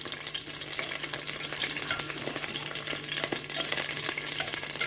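Scallion and pepper fry in hot oil, seasoning it before fish goes into the pan: a steady, dense sizzle with crackles throughout, close and even, with no talking.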